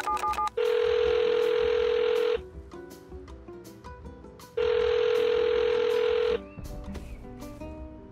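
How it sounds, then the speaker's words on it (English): Telephone ringing inside the Rust video game: two long, loud electronic ring bursts about two seconds each, separated by a pause, over quieter in-game background sounds and clicks. "in Rust, it's so rare to hear a phone ring that people kind of rush to go answer it"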